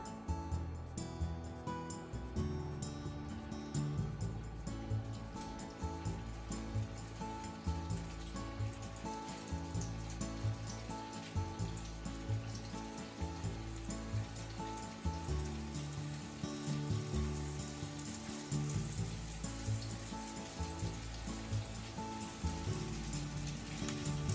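Steady crackling sizzle of meat-stuffed shiitake mushrooms frying meat side down in hot oil, continuous and close, with a faint rhythmic mechanical pulse underneath.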